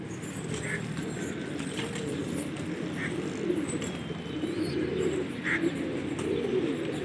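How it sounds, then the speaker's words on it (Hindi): Pigeons cooing at a pigeon loft during a pigeon-flying contest, soft repeated coos low under a steady murmur of background noise and distant people talking. "ये कबूतर"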